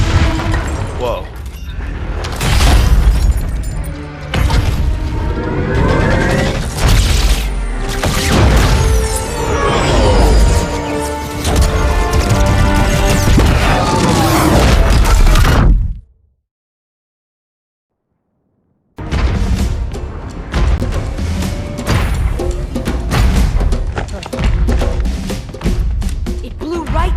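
Rockets exploding during a Halo 2 Anniversary cutscene, with loud, dense bursts and thuds layered over music and voices for about fifteen seconds. A sudden silence follows, then the busy blasts return.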